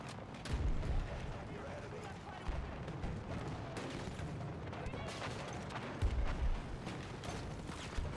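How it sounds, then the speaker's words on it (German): Grenade blasts and gunfire in Battlefield 2042 form a dense, continuous battle din, with heavy low booms around the start and again later, and a voice calling out over the noise. "Granate unterwegs!"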